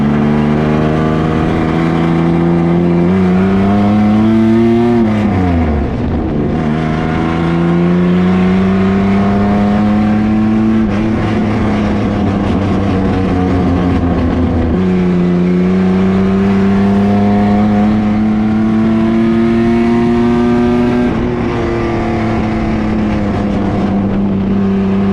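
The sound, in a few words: Danger Ranger 9000 race truck running qualifying laps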